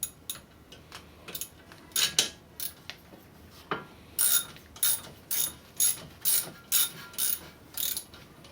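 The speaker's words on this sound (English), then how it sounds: "take my ratchet, make sure it's on tightening" A hand ratchet tightens a bolt on Audi A4 brakes, giving a run of sharp clicking strokes in a steady rhythm, close and crisp, scattered at first then settling into regular repeated pulls.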